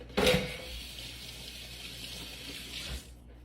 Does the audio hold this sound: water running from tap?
yes